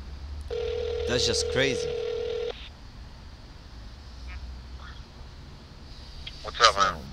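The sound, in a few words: telephone dialing an outgoing call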